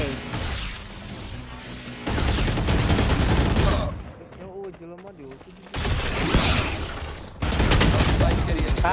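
Valorant gunfire during a spike round: dense loud bursts of shots in several stretches, broken by a quieter gap in which a voice is heard.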